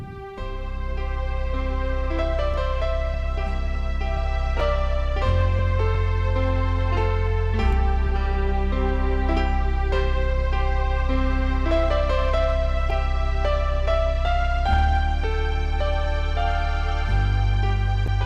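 Piano and strings play sustained chords with quick, bouncing harp-like arpeggiated notes cascading over each change, bright and continuous, with no talking.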